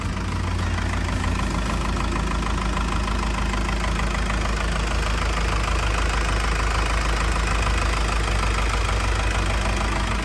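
A Komatsu WA100-3 wheel loader's diesel engine idles steadily at close range, a constant low rumble with a faint rhythmic knock and no talking.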